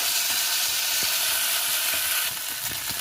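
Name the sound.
ground cumin paste frying in oil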